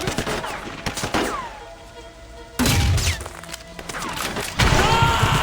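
Gunfire from the Sleeping Dogs video game, with bursts of sharp shots and thumping impacts in several loud clusters and busy game effects in between.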